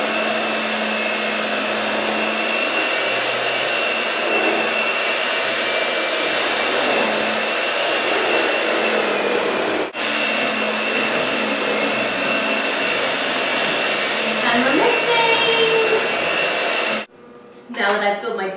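An electric hand mixer whirs steadily through chocolate cupcake batter in a home kitchen, a loud continuous motor drone lasting most of the clip before stopping briefly near the end, with no talk over it.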